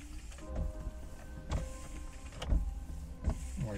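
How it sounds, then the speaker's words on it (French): Windshield wipers on a vintage BMW 2000 Touring run with a low motor whir and a soft thump at the end of each sweep, repeating roughly every second, close up inside the car. "Les essuie-glaces, du coup, tu les actives?"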